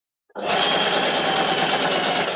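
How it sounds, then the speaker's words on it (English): A sewing machine starts up and runs loudly and steadily, a dense mechanical whirr with a fast, even stitching rhythm, close up and uninterrupted. "my sewing machine sounds like a train"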